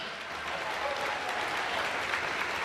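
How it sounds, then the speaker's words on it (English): A room full of people at a school committee meeting applauds in a dense, even wash of clapping that holds steady from start to finish, with no voices over it. "Let's give another round of applause"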